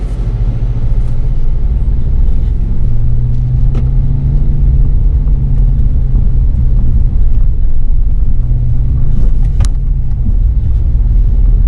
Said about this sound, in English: We're going to jump on the road, get back to the base camp